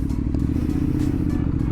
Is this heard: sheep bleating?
no